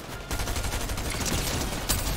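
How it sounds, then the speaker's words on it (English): Rapid gunfire in a shooter video game rattles continuously, loud and dense, with a brief lull near the start and a sharper burst toward the end. "Getting shot from who knows where."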